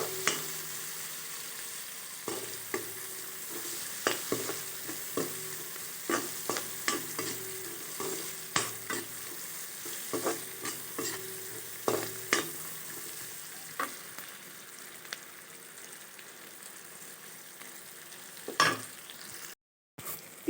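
Onions fry with turmeric in a hot pan, a steady low sizzle running throughout while a spoon scrapes and stirs in repeated close, sharp strokes.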